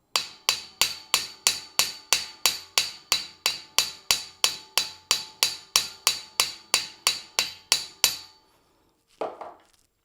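Metal struck repeatedly with a hand-carved slash-textured hammer in metalsmithing: about twenty-five sharp, evenly spaced ringing blows, loud and close, then a pause and a faint clatter.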